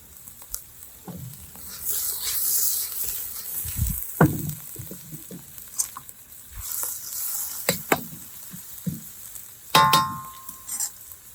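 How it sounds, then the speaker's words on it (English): Onion and garlic sizzle and spit in a hot pan, a steady fry broken by a few spoon stirs and the occasional clink of a utensil on the pan, with no one talking. "You want to cook that just until you can start smelling the onion and the garlic."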